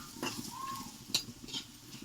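Bitter gourd pieces frying in a little oil, sliced and browned, with a soft steady sizzle and a few scraping stirs of a utensil against the pan.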